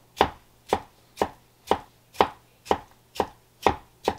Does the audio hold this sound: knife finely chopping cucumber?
yes